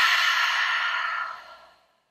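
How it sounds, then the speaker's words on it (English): A single long, deep breath is exhaled through the mouth during a morning yoga session, a soft, close airy rush that gradually fades to silence. "We take a last deep breath in together through the nose, exhaling through the mouth."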